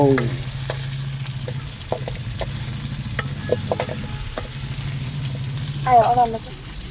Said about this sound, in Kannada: ನಾನು ಇವಾಗ ಇಲ್ಲಿ ಅಲ್ಲಾಡಿಸ್ತಾ ಇದ್ದೀನಿ